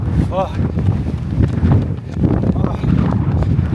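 Gusty wind buffeting the microphone during an outdoor run, a rough, loud rumble that rises and falls, with a person talking over it and footfalls beneath.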